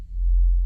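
A low, smooth synthesizer bass holds a sustained note with slight wavering, a four-voice detuned unison Reese bass playing F with pitch bend, steady and alone for under a second.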